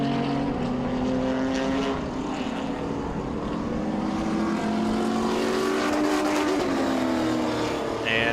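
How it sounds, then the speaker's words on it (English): Vintage modified race cars roar around the Owosso Speedway oval in a continuous loud drone, with engine pitch rising and falling as the pack runs down the back straightaway. "And Bronkema continuing to run in the wake of the 77 as they head down the back straightaway once again."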